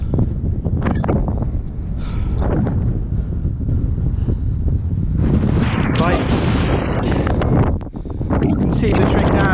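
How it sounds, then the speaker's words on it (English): Strong wind on the open summit of Mynydd Bedwellte, Wales, roars and buffets the microphone throughout, gusting louder toward the end, with a voice partly buried under the rumble. "It's very windy."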